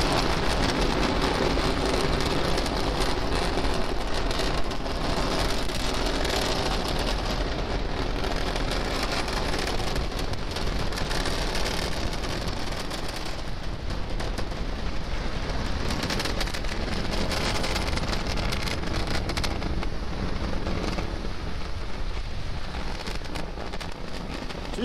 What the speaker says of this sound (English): Liftoff. Go Falcon, go GPS. Vehicle is pushing down range.